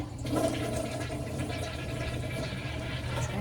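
A toilet flushes close by, a continuous rushing gush of water that holds steady for several seconds without fading.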